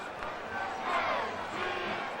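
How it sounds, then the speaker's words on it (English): Stadium crowd at a Kentucky home football game against Tennessee in Lexington, a dense roaring buzz of thousands of voices swelling and easing during a timeout, no clear commentary on top. "there's a buzz, of course, in this crowd"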